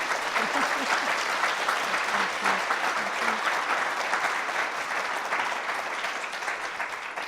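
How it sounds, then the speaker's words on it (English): Audience applause at a professional event on equality for women of color, a sustained wash of many people clapping that holds steady for several seconds, with faint voices underneath. "I would love it if you would join me in applauding her for coming up with this idea."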